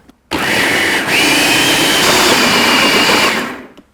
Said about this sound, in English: Now we're gonna put on our lid and then blend this until it's really smooth.